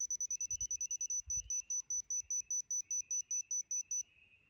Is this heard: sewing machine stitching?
no